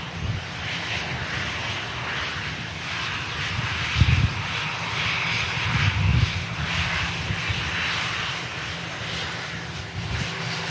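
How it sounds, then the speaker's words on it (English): A Dash turboprop on its takeoff roll at Manchester Airport gives a steady, broad engine roar at middle distance, with a couple of low thumps partway through and no voices. "Sarah's lined up and already on the takeoff roll, I think"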